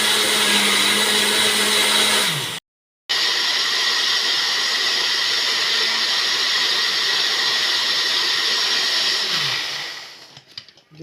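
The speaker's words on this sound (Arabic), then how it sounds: "نضربه ضربه كويسه كده مع السكر كمان، مع المانجا والبرتقال والشمام" An electric blender blends mango, orange and cantaloupe juice with sugar in a loud, steady close whirring drone that cuts out briefly, restarts and then winds down at the end, with no talking.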